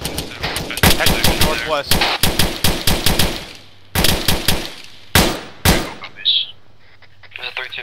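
Gunfire in the military game ARMA 3 rattles out in loud, close bursts of automatic fire, repeated several times with short gaps between them, while a voice briefly speaks over the shooting.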